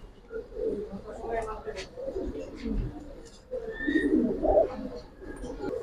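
Giribaz pigeons coo in soft, repeated bursts at close range, the throaty calls rising and falling over several seconds against a faint murmur of voices in the background.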